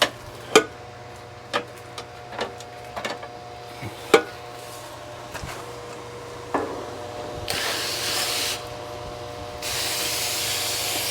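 Spray washing a home AC condenser coil: a few sharp clicks and taps first, then bursts of hissing spray close by, stopping briefly and starting again.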